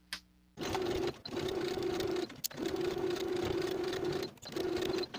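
A sewing machine stitches in the ditch along a garment's seam line in a few steady, close bursts of motor whir, separated by short pauses.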